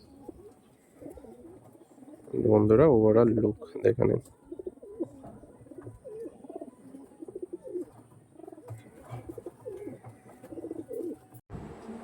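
Purebred pigeons, including Kalpora and Kaldoma birds, coo in a loose burst near the start, then softer calls continue under someone speaking throughout.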